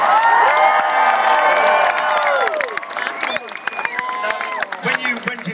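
A large Olympic crowd at the 2012 track cycling venue cheers and applauds loudly, with whoops and shouts rising over a steady wash of clapping that gradually thins out.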